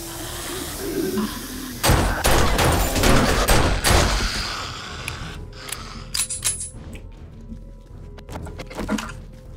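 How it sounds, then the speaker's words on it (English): Bursts of rapid gunfire crack out in the survival video game 7 Days to Die, dense volleys in the first few seconds followed by scattered shots and clanks. "How did this gunfire not wake you up?"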